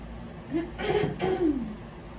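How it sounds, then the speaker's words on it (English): A person clears their throat close up, two short rasping, voiced bursts in quick succession, then quiet. "I'm gonna get a drink of water and clear my throat real quick."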